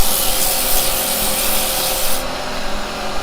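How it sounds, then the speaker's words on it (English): Sandpaper rubbing against a spinning wood turning on a lathe, a steady, loud, continuous hiss of abrasion close by, with a constant hum beneath it and no talking. "I'm going to do a little bit of a a little bit of a sand on that"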